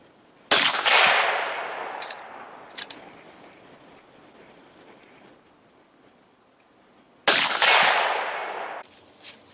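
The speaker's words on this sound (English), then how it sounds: "We're shooting 168 grain Match Kings" A 1965 Savage 99C rifle in .308 Winchester, firing 168 grain Match King rounds at steel targets, lets off two loud blasts several seconds apart, each followed by a long rolling echo and faint clanks.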